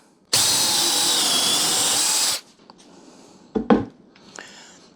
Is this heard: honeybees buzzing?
no